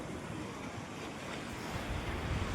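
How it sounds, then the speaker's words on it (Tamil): Sea waves roll onto a beach near a temple, a continuous, full wash of surf mixed with wind buffeting the microphone, steady and loud with no talking. "கடல் பாருங்க, எவ்வளோ சூப்பராக இருக்கு."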